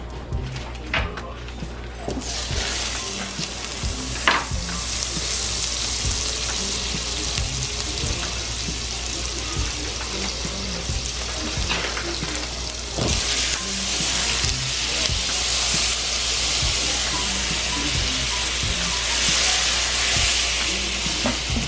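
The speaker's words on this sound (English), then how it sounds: "I'm gonna melt this butter" Butter melting in a pan with fresh garlic and lime close by for a lime shrimp pasta, a steady close sizzle and crackle running throughout with occasional stirring clinks and scrapes, no voices.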